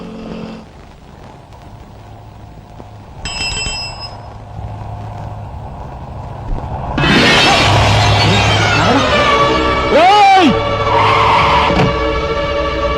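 A car skids and screeches in a Telugu action film street scene, a loud tyre squeal sweeping in mid-clip over traffic and background score, with a sharp bell-like ring and a brief voice nearby.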